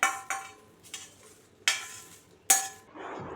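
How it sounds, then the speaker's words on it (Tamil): Masala spices and curry leaves dry-roasting in a kadai, with a metal spoon striking and scraping the pan in four sharp clinks, then a soft rustling stir. "இதில் கடாயிலே போட்டு கொஞ்சம் அப்படியே வறுத்து போட்டுக்க போகிறேன்."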